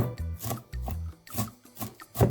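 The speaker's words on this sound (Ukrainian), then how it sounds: "А щоб була капуста м'якча, я ще подрібню її ножем." Repeated knife strokes chopping cabbage on a board, quick uneven chops with short pauses between them, close and fairly quiet.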